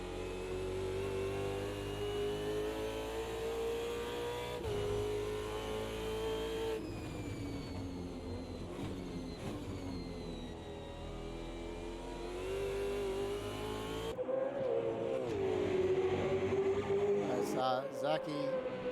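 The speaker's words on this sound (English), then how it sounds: "We're on board Rusty, and they're in the Milwaukee racing car" Race car engine in a sim racing game at Bathurst, the Milwaukee racing car in an endurance race, droning and revving continuously with gear-change shifts and rising pitch, loud throughout beneath a commentator's voice.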